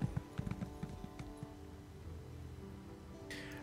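Horse hooves clip-clop in The Elder Scrolls Online, a quick run of light, evenly spaced steps at first that thin out and give way to a steady ambient wash, with no talking.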